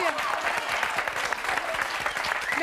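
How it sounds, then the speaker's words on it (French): An audience at a French gathering honouring a nun claps steadily, a dense, sustained round of applause that fills the whole stretch without pause. "On va l'applaudir."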